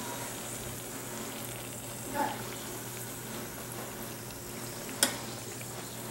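Beignets frying in hot oil, a low steady sizzle and bubbling with a couple of brief clinks, faint and close, no talk.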